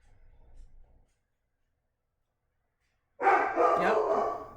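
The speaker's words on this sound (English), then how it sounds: "My dog's gonna start barking." A dog barks indoors at home, a short loud burst of barking near the end after a faint rumble and a stretch of silence.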